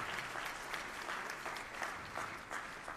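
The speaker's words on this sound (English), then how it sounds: "Have a round of applause for all the bands who play this music and that are trying this music." An audience applauds the bands at a Loyola University New Orleans School of Music event, steady clapping sustained throughout, moderately distant and filling the room.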